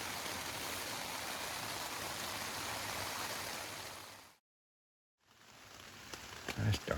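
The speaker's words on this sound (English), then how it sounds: "can you hear the rain?" Rain falling steadily over a boulder field, a dense even hiss that cuts out abruptly, then returns more faintly with a few close knocks and rustles.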